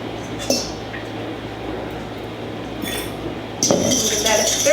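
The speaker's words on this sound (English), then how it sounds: "Give that a stir." A spoon clinks against a bowl while yeast, warm water and sugar are stirred together, giving a few light glassy taps and soft liquid swishes, close by, with a louder clatter near the end.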